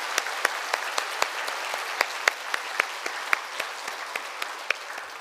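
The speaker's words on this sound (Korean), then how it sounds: "다시 한번 감사의 박수 하도록 하겠습니다." A church congregation at a Wednesday evening service applauds to thank a visiting pastor, a steady, close round of many hands clapping with sharp individual claps standing out throughout.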